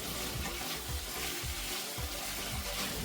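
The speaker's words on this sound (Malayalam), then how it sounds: "ഉപ്പ് കൂടി ചേർത്തിട്ട് നല്ല പോലെ ഇളക്കി യോജിപ്പിച്ച് കൊടുക്കാം" Potatoes frying with salt in a pan while being stirred, a loud dense sizzle with soft scraping stir strokes, close and continuous throughout.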